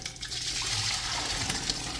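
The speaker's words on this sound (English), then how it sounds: "I'm going to put the peas now in the pot for this. So I'm just going to pour it out." Peas poured into a pot for red peas soup make a continuous wet, splashing rush for about two seconds, close by with no talking.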